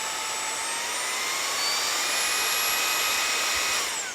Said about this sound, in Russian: Пылесос Red именно эффективно мощный